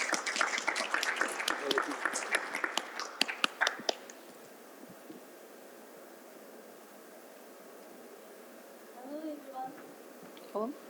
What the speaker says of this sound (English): A big applause for her,